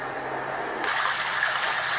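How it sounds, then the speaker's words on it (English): Ocean setting on a baby white noise machine, a steady broadband wash of surf-like hiss that turns on partway through and then holds constant and fairly loud, with no talking over it. "Ocean."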